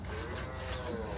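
A dairy cow lows on a farm in a steady, continuous moo lasting the whole moment, fairly close and moderately loud with no talk over it.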